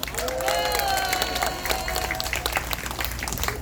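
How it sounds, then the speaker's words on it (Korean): Lecture audience gives a round of applause, clapping with murmuring crowd voices and a tonal hum or vocal line over it, fairly loud and continuous. "여기서도 박수 한번 해야 됩니다."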